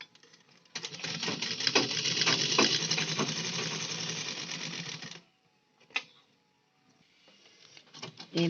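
Sewing machine stitching tucks on a blouse runs in one steady, continuous burst of rapid whirring for about four seconds, then stops, with a few faint clicks and handling noises afterward.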